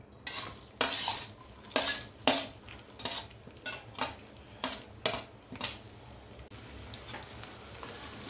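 Long-cut sliced onions frying in a pan, with a faint continuous sizzle under about a dozen sharp, regular scraping strokes of a utensil against the pan as they are stirred, no talking.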